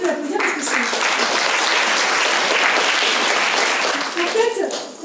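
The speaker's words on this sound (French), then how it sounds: "Merci Victor, je pense qu'on peut l'applaudir parce que c'est..." Audience applause at a talk on intuitive eating and taste education, a dense steady wash of clapping that fills the room throughout and tapers at the end.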